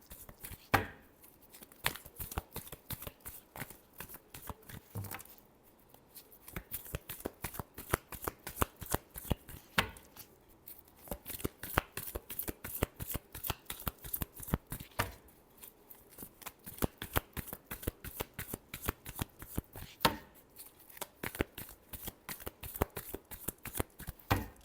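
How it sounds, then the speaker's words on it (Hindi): Tarot cards shuffled by hand in repeated bursts of rapid riffling and flicking, crisp and close, with brief pauses between rounds over about 25 seconds and no talking. "last shuffle"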